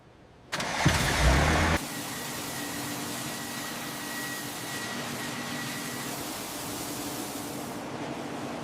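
A restored Titan X24 military heavy machine fires up with a loud, rough burst of cranking that lasts about a second. It then settles into a steady, droning idle with a faint whine running over it.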